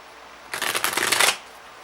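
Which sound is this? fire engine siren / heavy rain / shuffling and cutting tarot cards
shuffling and cutting tarot cards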